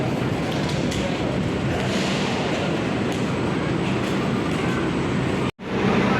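Jayabaya passenger train at Malang station makes a steady loud rumbling roar of rolling carriages that continues evenly, then cuts out briefly near the end.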